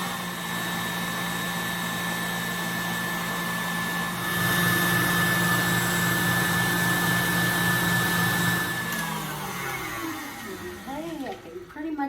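Egg whites are whisked to stiff peaks for non-alcoholic eggnog, a steady loud motorized whir that rises in intensity midway and stops near the end, followed by faint clinks.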